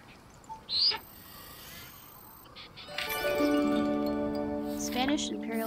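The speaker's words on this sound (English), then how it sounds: "Spanish Imperial Eagle." Calls of a Spanish Imperial Eagle in the game Alba, a brief cry early on and then a sustained, ringing tonal call over soft outdoor game ambience, with a player's voice heard.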